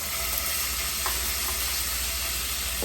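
Shrimp sizzling in an extremely hot pan for a steak and shrimp bucatini pasta, a loud, constant frying hiss with crackles and occasional spatters, no voices.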